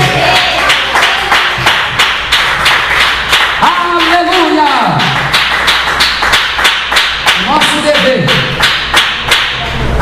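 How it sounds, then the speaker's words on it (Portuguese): A church congregation claps hands in a steady, rhythmic beat, sharp dense claps repeating about every half second for the whole stretch, with a voice talking over it. "Pode bater as palmas com glória a Deus."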